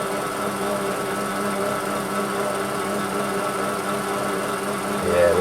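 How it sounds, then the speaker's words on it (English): A Warco metal lathe runs with a knurling tool pressed against the turning workpiece, giving a steady low mechanical hum and whirr at close range with no talk, swelling slightly just before the end. "I'm not sure how successful this is going to be with this knurling tool, because it's just not suitable for this lathe really."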